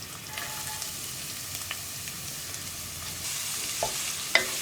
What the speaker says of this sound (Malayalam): ഇനി ഈ സവോള ചേർത്തിട്ട് നമുക്കൊന്ന് നന്നായിട്ട് വഴറ്റിയെടുക്കാം.